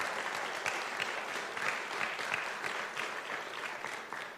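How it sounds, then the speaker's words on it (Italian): Applause from an audience at a Friuli nel mondo convention in Gorizia, welcoming a group of young people: steady, dense clapping from many hands that holds for the whole span without a break. "un applauso a questi ragazzi"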